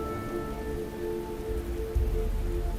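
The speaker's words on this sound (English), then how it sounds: "At some point, the rain began to fall once more." Soft, steady rain falls in the video game FANTASIAN Neo Dimension, a gentle patter over a low sustained musical tone, with a slight swell near the end.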